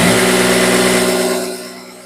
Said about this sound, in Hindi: ये देख सकते हैं ऑयल उठा रही मशीन